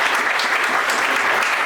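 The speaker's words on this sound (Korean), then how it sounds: "박수로 축하해 주시기 바랍니다" Wedding guests in a church applauding the couple after their vows, a dense, even wash of clapping that fills the room without pause.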